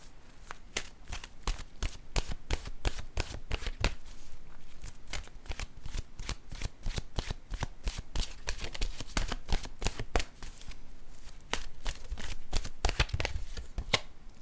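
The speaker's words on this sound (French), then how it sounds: "Je vais piger maintenant une carte de mon oracle de l'âme intuitive." Oracle cards shuffled by hand, a steady run of quick riffling flutters and soft slaps repeating closely and evenly throughout, near and clear with no talking.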